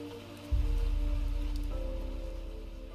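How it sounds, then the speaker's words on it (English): Steady rain falls in the video game Fantasian Neo Dimension, a dense, even hiss of drops on a surface that starts abruptly and continues unbroken, loud and close, with a low rumble beneath and no voices. "But even the rain soon began to weaken."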